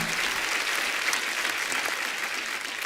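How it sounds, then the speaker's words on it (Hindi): A studio audience on a televised Hindi comedy talk show breaks into loud, sustained applause, dense clapping from a large crowd filling the room continuously. "एक बार जोरदार तालियां"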